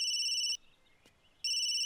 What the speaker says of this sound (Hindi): अरे सोनिया की जहां शादी कैंसिल हुई थी वहीं से फोन आ रहा है।